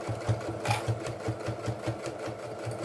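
A sewing machine stitches a fabric bum bag with a close, steady run of rapid needle strokes, evenly pulsing and alone.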